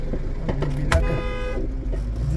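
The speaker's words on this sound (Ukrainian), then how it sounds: "Люди переходять пішохідний перехід, вони сука ззаді сигналять." A car horn honks from behind in Kyiv city traffic, a short toot rising above the steady rumble of engines inside a taxi.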